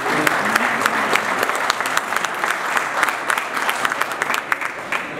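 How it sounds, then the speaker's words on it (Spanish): A crowd at the Expo 2017 launch claps steadily and loudly for several seconds, a dense patter of many hands with no break. "Para ellos pido un aplauso."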